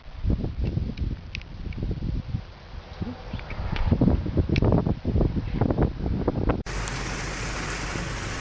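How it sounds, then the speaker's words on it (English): Rain pounds a car driving on a highway toward an approaching storm, a dense steady hiss and patter mixed with road and wind noise, continuing loud throughout. "Rain just came in out of nowhere."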